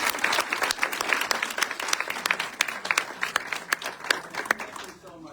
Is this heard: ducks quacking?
no